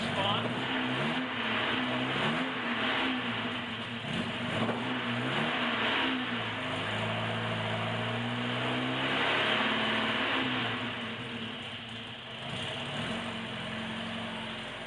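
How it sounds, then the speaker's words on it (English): A 1976 Alfa Romeo Spider four-cylinder engine runs on half choke just after a cold start, holding a loud, steady idle with a few rising and falling revs, close by. "Now we're running on 4 cylinders"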